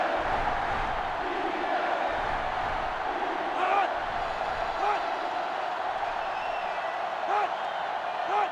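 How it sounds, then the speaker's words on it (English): Stadium crowd noise in the video game NCAA Football 2005 during an Oregon vs. Oregon State rivalry game, a steady loud roar of cheering with a few whistle-like blips over it. "this crowd is going absolutely insane"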